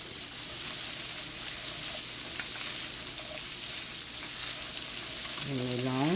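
Bell pepper frying in a pan with onion and garlic, a continuous soft sizzle and hiss with a few light stirring clinks, ending on a rising scrape.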